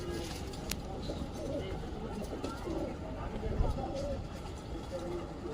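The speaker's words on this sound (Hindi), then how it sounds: "लगा दो भाई ये कबूतरी आ गई है" Pigeons coo softly in the background at a pigeon-flying tournament, low repeated calls under a general outdoor murmur, with people talking nearby.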